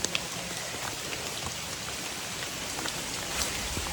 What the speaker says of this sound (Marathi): आता एकदम पाऊस जोरदार चालू झाला आहे या जंगलात